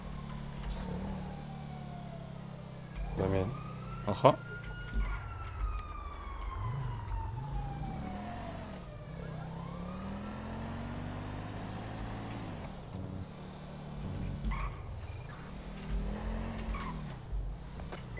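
Police siren wailing in the GTA V game, rising and falling sweeps over a steady rumbling vehicle engine, with brief voices talking over it.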